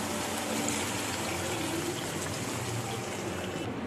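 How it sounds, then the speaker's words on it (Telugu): Water pours steadily into a pan of chicken masala gravy, a continuous close rushing trickle that holds unbroken throughout. "ఇప్పుడు గ్రేవీకి సరిపడా వాటర్ యాడ్ చేసుకుందామండి."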